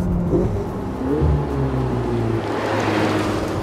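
Ferrari 488 GTB turbocharged V8 engine running and revving, a loud, close, sustained engine roar with shifting pitch and no talking.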